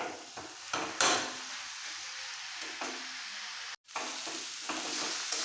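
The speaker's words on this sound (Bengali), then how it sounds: "একদম ঝরঝরে হওয়া পর্যন্ত একটু নাড়াচাড়া দিতে হবে" Vegetarian radish ghonto with half a spoon of sugar is stirred in a pan, giving a continuous soft sizzle with repeated scraping strokes and one brief pause.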